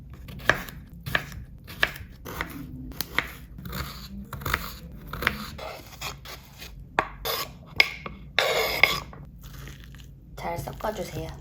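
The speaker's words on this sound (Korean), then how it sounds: "오이랑 당근을 썰어줄게요" Knife chopping cucumber and carrot for a potato sandwich, a run of sharp, close board strikes in uneven bursts with scraping and rustling between them and a voice talking at times.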